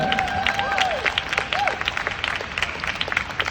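A crowd at a MoMA members' poetry reading claps in a full, sustained round, with voices briefly rising above the clapping before it continues steadily.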